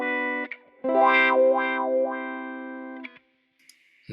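Electric guitar played through a Kemper Profiler on a Cry Red wah tone, distorted and chorused, with a held note swept up and down by the wah in a vowel-like wail, then a short pause and a few brief plucks.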